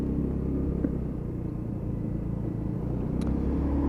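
A Lexmoto Titan Euro 5 motorcycle being ridden on a test ride, a steady low engine drone and rumble with wind noise, continuous and even in level throughout, with no talk.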